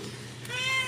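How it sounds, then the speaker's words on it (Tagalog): A single short cat meow rises close by, clear against quiet room noise. "Ang ano lang ingay ng pusa."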